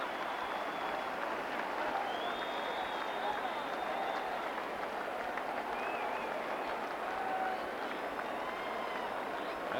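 A sellout baseball crowd at Enron Field applauds and cheers Barry Bonds's 70th home run, a continuous roar of clapping and yelling that stays level throughout.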